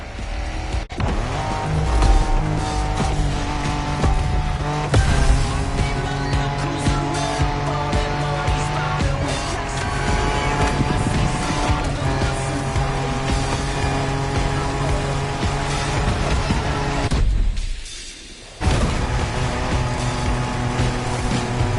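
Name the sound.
off-road car racing in video game The Crew Motorfest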